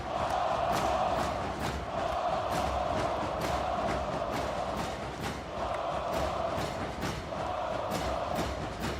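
A large basketball crowd fills an arena at a FIBA final, with continuous loud cheering and chanting, a dense roar and rhythmic pulses running throughout.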